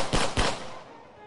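Two quick, loud gunshots at a shooting gallery, an audio drama sound effect, cracking close together and decaying into a brief echoing tail.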